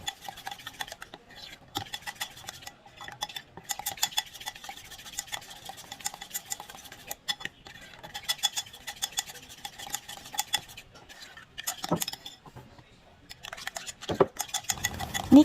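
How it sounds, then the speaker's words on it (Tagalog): Low-carb pancake batter is whisked in a bowl, giving a fast, continuous run of light clinks and taps of the whisk against the sides. It is faint and steady, with a few louder knocks. "Mix the pancake batter until well combined."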